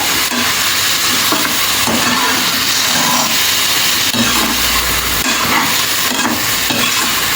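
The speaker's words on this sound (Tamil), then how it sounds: "அதையும் போட்டு நல்லா வதக்கிக்கோங்க." Ingredients for peas paneer pulao, including coriander and mint, sautéed in a pan, a loud continuous sizzle with repeated scraping strokes of the spoon, close and alone.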